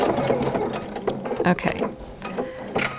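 A PFAFF Creative Icon sewing machine stitches a blind hem in quick, close mechanical bursts of rapid needle clatter, with a short spoken word over it.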